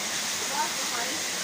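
Steady, loud broadband roar of a waterfall flowing inside a cave by the Beusnița waterfall, continuous and unbroken, with a faint voice barely showing beneath the rush.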